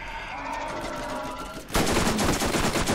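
Gun fire in the Borderlands video game, a fast rattling automatic burst that suddenly starts after a quieter stretch and continues loud and close, with some talk under it.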